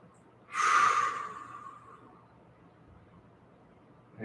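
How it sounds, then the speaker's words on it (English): A single strong deep breath during a beginner stretching routine for desk workers, one loud airy exhale that fades slowly into quiet, with the next breath just starting at the very end. "deep breaths"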